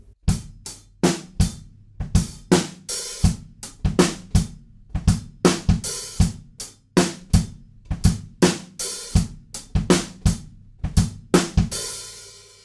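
A drum kit plays a groove with punchy kick and snare hits in a steady rhythm, crisp close cymbal accents, and the hi-hats dropping out briefly each bar, loud and alone.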